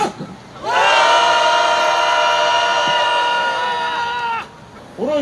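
A large crowd shouts together in one sustained, loud roar lasting several seconds, then breaks off, opening a Korean press conference held by visiting nurses; a brief voice is heard before and after.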